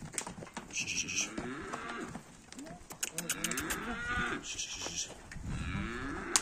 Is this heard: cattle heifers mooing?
yes